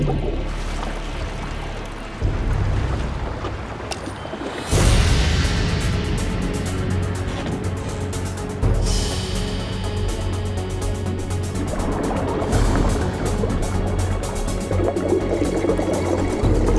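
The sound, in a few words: boat moving through water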